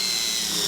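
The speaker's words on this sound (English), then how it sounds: "we'll put a single self-tapping screw through each hole" A drill drives a self-tapping screw through a batten strip into the roll bar of a Haven high tunnel greenhouse, giving one short, steady whirring burst close by.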